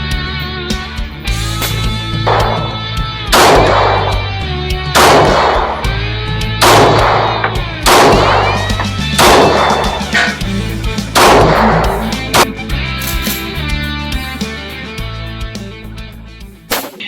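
A modernized AK47 rifle fires loud, sharp single shots at a fairly regular pace, around ten in all, each ringing out over a steady tonal background.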